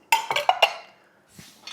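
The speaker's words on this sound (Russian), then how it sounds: "Нужно вытащить посуду" Dishes clink and clatter in a quick cluster of four ringing knocks as they are lifted out of a dishwasher, followed by a quieter rustle.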